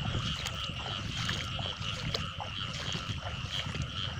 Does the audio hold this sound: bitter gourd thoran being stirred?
no